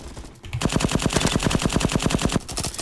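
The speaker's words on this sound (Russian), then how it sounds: "Чего ты стреляешь, не стреляй в меня?" Automatic gunfire from the Roblox shooter Bad Business, a rapid, evenly spaced stream of loud close shots running almost without pause.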